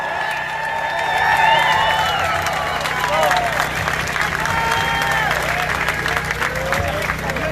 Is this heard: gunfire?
no